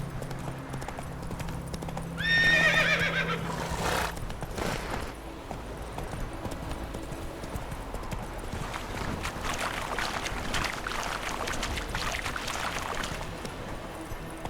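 Horse Roach from The Witcher 3 gives a bright whinny near the start, then hooves clip-clop steadily through the rest amid outdoor game ambience.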